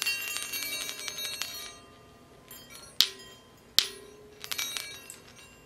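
Bright metallic chimes from healing chime balls ring out in clusters, then two sharp single strikes each leave a shimmering ring that fades, followed by more tinkling.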